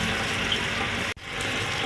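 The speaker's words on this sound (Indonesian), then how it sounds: "Ini saya kasih atau saya siram dengan pupuk-pupuk organik pemirsa." Organic liquid fertilizer poured from a container onto chili plants in a garden, a steady close gush of liquid that runs on, cuts off for an instant, then resumes.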